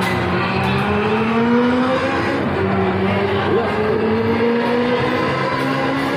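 Engine of a car in an arcade racing video game, a steady loud drone with pitch that rises and falls as it accelerates and shifts, running continuously with no voices.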